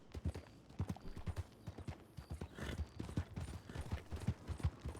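In the RedM roleplay video game, a horse clip-clops at a brisk gait, its hoofbeats firm and rhythmic at close range, with faint background noise between the strikes.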